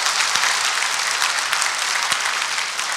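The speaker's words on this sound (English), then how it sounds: "Let's give a round of applause." A crowd at a civic ceremony marking Project Clean Slate Day gives a round of applause, a loud, dense, continuous wash of clapping with no voices.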